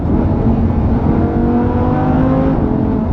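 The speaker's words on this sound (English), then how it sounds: "Here we go, downshift in the tunnel." 2015 Lamborghini Huracán LP610-4 downshifting inside a tunnel, a loud, close, continuous engine roar with rising and falling tones that echo densely off the enclosed walls, no voices.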